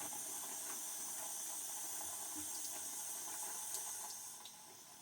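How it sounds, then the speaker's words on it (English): Warm tap water runs in a steady hiss as a dense shaving brush is rinsed under it, with faint splashes and clinks, tapering off slightly at the end. "I'm going to bring in some warm water here as I rinse my brush"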